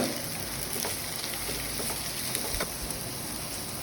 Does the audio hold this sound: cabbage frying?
yes